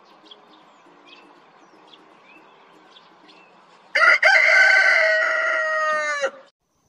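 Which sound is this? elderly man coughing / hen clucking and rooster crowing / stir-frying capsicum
hen clucking and rooster crowing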